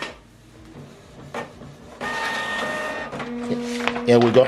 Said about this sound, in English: we are printing this document double-sided.